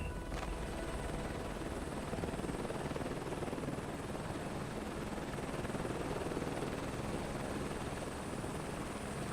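Rotor aircraft lifting off in Microsoft Flight Simulator 2024, a steady loud broadband rotor and engine drone with constant thumping texture throughout, no talking.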